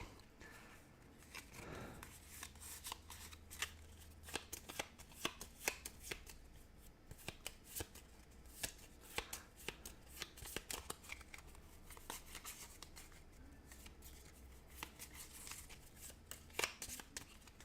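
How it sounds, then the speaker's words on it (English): Playing cards shuffled back into a small deck during a solo Marvel Champions card game, heard as a run of quick, close riffling and tapping clicks with brief pauses, no talking. "I shuffle those back into my deck, which has only got 3 cards."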